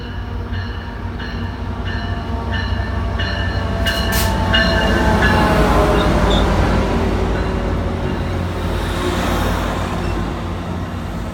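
An Amtrak Pacific Surfliner hauled by an F-59PHI locomotive pulls into Fullerton station, a loud, steady rumble of wheels and rail cars that builds and holds throughout, with a brief tonal signal early on and no talking.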